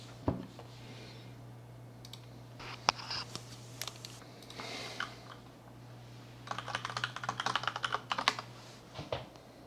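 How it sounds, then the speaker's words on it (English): Rapid bursts of typing on a computer keyboard while writing a product description late at night, with scattered single key clicks early on and a dense, fast run of keystrokes near the end, close and fairly quiet over a steady low hum. "time to type the description"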